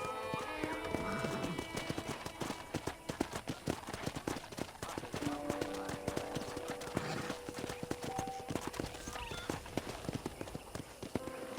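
Horse hooves clip-clop steadily in the Red Dead Redemption video game, a continuous rhythmic trot with an occasional whinny, layered over ambient game sound and background music.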